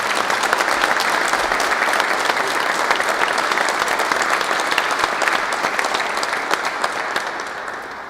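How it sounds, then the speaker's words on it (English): An audience at an EMS memorial service gives a loud, dense round of applause that holds steady for about eight seconds and then begins to taper off. "I think they deserve a great round of applause for everything."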